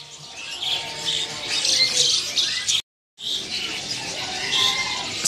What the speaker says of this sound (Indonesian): Stok melimpah untuk burung jalak suren dewasa ya pemirsa.